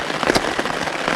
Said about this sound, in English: slept really well, but it's still raining